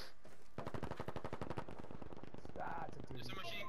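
Machine gun fire in the Battlefield V video game, a rapid, loud, evenly spaced burst of shots lasting about two seconds, followed by further battle noise, with a player talking over it.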